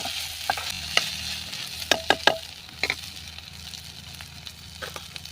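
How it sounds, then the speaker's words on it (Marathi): Corn kernels sautéing in hot oil while being stirred, a steady soft sizzle broken by a few sharp scraping clicks from the spoon, close and moderately quiet with no talking. "आता आपण जे मक्याची कणसं काढली होती ती टाकून घेऊया थोडीशी आता तेलावरती आपण चांगली परतून घेऊया"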